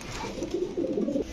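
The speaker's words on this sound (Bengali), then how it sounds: "অনেক ছটফটে কবুতরগুলো ছেড়ে পালা কবুতর এগুলো।" Pigeons at a pigeon market give a short, soft, low cooing phrase, close and fairly quiet over a faint background hum.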